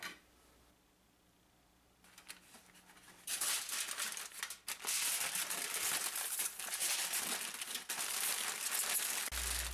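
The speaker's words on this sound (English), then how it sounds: "then wrap this up in foil" Close, loud crinkling and crumpling of aluminium foil being folded and pressed around a rum fruitcake, continuous after a quieter start with a few soft handling sounds.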